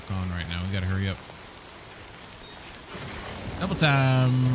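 In-game rain from Death Stranding 2 pours as an even, soft wash of noise between stretches of a voice at the beginning and end.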